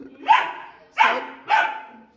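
A German Shepherd barks three times in quick succession, loud and close, each bark sharp with a short tail, with no other sounds between.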